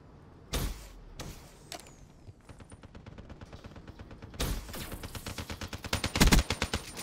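FAMAS assault rifle fire in a first-person shooter video game, heard as several loud separate shots and then sustained rapid automatic bursts with sharp repeated cracks.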